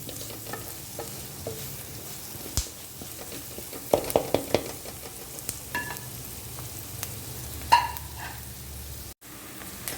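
Onions and garlic softening in hot oil for paneer chicken rice, a continuous close sizzle broken by scraping spoon stirs and a few clattering knocks against the pan.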